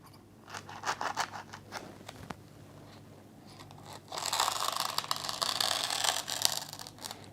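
A blade cuts through shadow foam around the outline of a torch, making scratchy, crunching strokes. The cuts are intermittent at first, then become a steadier, louder run of scraping and rasping. No one talks.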